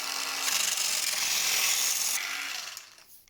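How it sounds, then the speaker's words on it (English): An oscillating saw cutting away old PLA plastic fins on a 3D-printed delta boxwing model, giving a steady, bright buzzing rasp for about two seconds before trailing off, close and alone. "First I'm removing these old fins with the oscillating saw."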